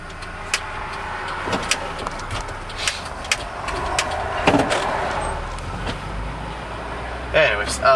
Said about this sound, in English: Man, there's a lot of cars today.